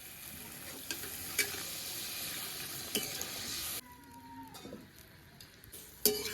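Fried spice paste for a Bengali bata fish curry with potato and brinjal sizzles steadily in a pan, then water is poured in and the sizzle drops to a softer bubbling hiss with a few utensil clinks.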